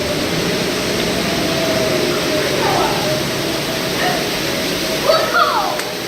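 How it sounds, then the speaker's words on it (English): A waterfall at Knott's Berry Farm, heard from behind the falling water, gives a steady, loud, broadband rushing roar throughout, with faint voices blending into the wash. "Oh, look, another waterfall."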